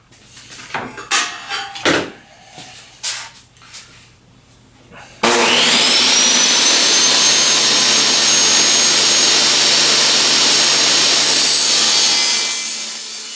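Table saw cutting a circle in wood with a circle cutting jig: a few knocks and handling noises, then the blade whines up and roars steadily through the cut, loud and close, before spinning down at the end.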